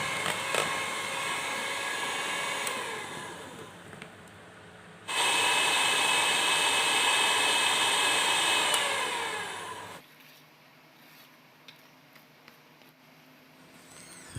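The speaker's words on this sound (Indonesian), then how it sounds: "Mixer kembali hingga tercampur rata" Electric hand mixer beating egg yolks into cookie dough, a steady whirring motor that surges louder for a few seconds mid-way, then cuts off, leaving quiet kitchen handling noises.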